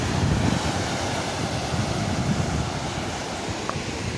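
Sea wind and waves at a seaside park in Mumbai, a loud, steady broadband rush of surf and gusting wind buffeting the microphone, continuous for the whole stretch with no voices.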